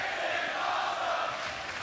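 A wrestling arena crowd cheering at a TNA No Surrender 2008 event, a dense steady roar of many voices that fills the space evenly throughout.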